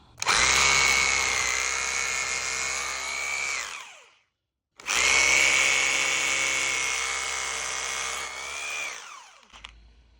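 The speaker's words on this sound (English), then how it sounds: "So we're going to drill some holes." A power drill whines steadily at high speed, drilling holes in a patio in two long bursts of several seconds separated by a short pause, loud and close.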